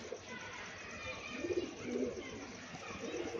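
A female pigeon coos softly at close range, low murmuring calls rising briefly in the middle, with faint background noise.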